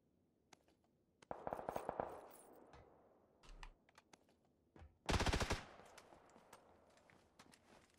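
Gunfire in the video game PUBG on the snowy Vikendi map, quick bursts of automatic shots with sharp single cracks, one loud close volley, and clicky keyboard-like taps between them.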